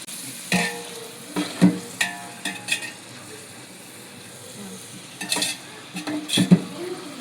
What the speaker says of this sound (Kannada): ಇವಾಗ ಇದಕ್ಕೆ ಒಂದು 10 ಈರುಳ್ಳಿ ಚಿಕ್ಕ ಚಿಕ್ಕದಾಗಿ ಕಟ್ ಮಾಡಿಕೊಂಡು ಹಾಕ್ಕೊಂಡಿದ್ದೀನಿ. ನೀಟಾಗಿ ಫ್ರೈ ಮಾಡ್ತಾಯಿದ್ದೀನಿ.